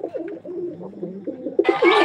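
Rajshahi Giribaj pigeons coo close by in a series of soft, low rolling calls, followed by a sudden burst of brighter noise at the end.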